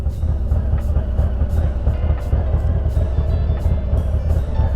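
A motorcycle idling along slowly in first gear while riding in circles, a steady, loud, close low engine drone that holds an even level throughout.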